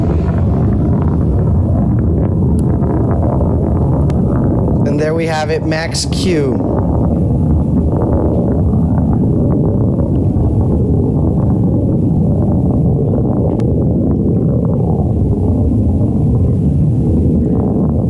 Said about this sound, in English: we can hear that BE-3 engine just roaring through the sky